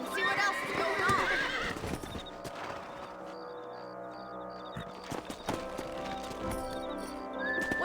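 Horses neighing and hooves clopping in the Western video game Red Dead Redemption, with a whinny near the start over a busy, layered game soundscape that continues under music and ambient effects.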